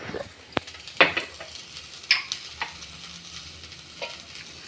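Beans fry in a pan with a soft sizzle while a spoon scrapes and stirs, giving several sharp clicks and scrapes over the steady frying hiss.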